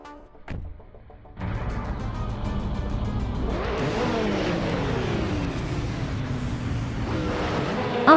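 Race cars, including a KTM X-Bow GT4, roar around the Circuit du Var in a racing video game; a brief engine note gives way to a loud, sustained engine drone with rising and falling revs and a sharp surge at the end.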